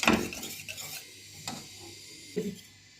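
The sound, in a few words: stirring homemade ketchup in a pot while it thickens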